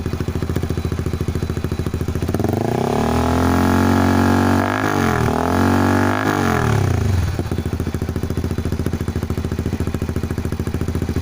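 A 2019 Honda CBR150R motorcycle with a homemade exhaust and a 2 mm thick steel pipe insert idles, then its engine revs up loudly in a few quick surges before settling back to a steady idle.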